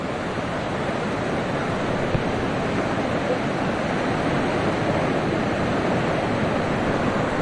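Ocean surf breaking at the shore of a Goa beach, a constant broad roar of waves and wind, loud and steady with no voices.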